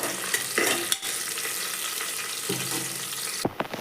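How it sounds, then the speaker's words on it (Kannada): Chopped onions sizzle and fry in hot oil with curry leaves for a palya of field beans, with steady frying hiss and a few scraping stirs of a spoon in the pan, no talk. "ಕಟ್ ಮಾಡಿ ಇಟ್ಕೊಂಡಿರುವಂಥ ಈರುಳ್ಳಿ ಸೇರಿಸ್ಕೊಳ್ತಾ ಇದ್ದೀನಿ ಇದನ್ನು ಕೂಡ ಒಂದು ತರ್ಟಿ ಸೆಕೆಂಡು ಎಣ್ಣೆಯಲ್ಲಿ ಚೆನ್ನಾಗಿ ಫ್ರೈ ಮಾಡ್ಕೋಬೇಕು"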